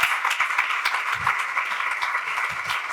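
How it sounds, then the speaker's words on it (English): Brief round of applause from a conference hall audience at a national yoga conference, dense clapping held steady at moderate loudness for a few seconds. "Please give a round of applause to sir."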